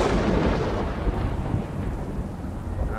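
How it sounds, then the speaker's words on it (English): Thunder rolls through a dark castle in the video game Forsaken Castle, one long, loud, continuous rumble with a rain-like hiss that fills all three seconds, with no voices. "Thunder."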